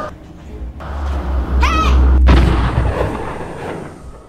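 A single sharp gunshot cracks nearby amid a dramatic rumbling background, followed by a brief high squeal and lingering low noise.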